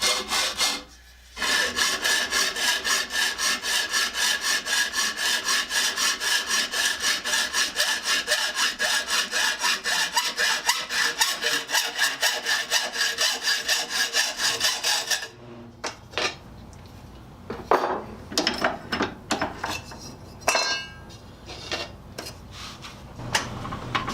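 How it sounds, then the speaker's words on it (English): A hacksaw fitted with a 32-tooth blade saws in fast, steady back-and-forth strokes, loud and close for about fifteen seconds, then gives way to scattered quieter knocks and scrapes. "this is a 32 tooth hacksaw blade"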